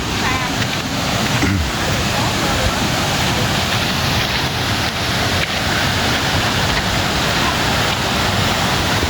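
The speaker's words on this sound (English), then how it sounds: "Let's have a look at the waterfall." A waterfall roars in a steady, dense rush of falling water, loud and close, continuous for the whole stretch with a faint breath of wind and no clear talk over it.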